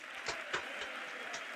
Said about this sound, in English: There's a lot of clapping for all this good stuff that Trump's been doing.